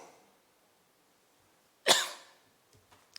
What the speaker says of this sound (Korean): 진짜 이렇게 기침이 나더라고.